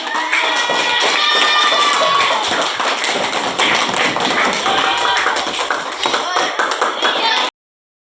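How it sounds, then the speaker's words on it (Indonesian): Classroom audience clapping in a lively burst, fast overlapping claps with some shouting voices, loud and steady before stopping abruptly. "Tepuk tangan."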